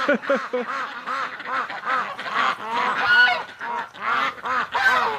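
Geese honk and cackle in a steady series of rough, repeated calls, close and moderately loud, with no talking.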